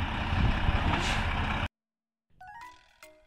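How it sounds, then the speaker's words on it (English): A brand new 2020 Volvo rock truck maneuvers on a road repair site, its loud engine roar cutting off abruptly, then a pause before air brake hiss and reversing beeps sound. "I think I see a rock truck coming."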